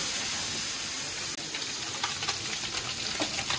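Small puti fish fry in hot oil in a wok, giving a steady, dense sizzle and hiss close up, with faint crackles and stirring scrapes scattered through it.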